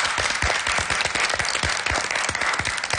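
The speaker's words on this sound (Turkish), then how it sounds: "İlayda'yı hepimiz alkışlıyoruz." A small audience applauding for İlayda, dense rapid clapping from many hands, close and continuous for a few seconds.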